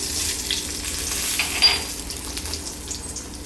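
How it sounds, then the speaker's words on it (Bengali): Bay leaves and panch phoron sizzle as they are tempered in hot oil left over from frying rui fish, a steady close frying hiss with a few brief louder crackles. "এই তে আমি ফোড়ন দিয়ে দিচ্ছি দুটো তেজপাতা আর দিয়ে দিচ্ছি পাঁচফোড়ন"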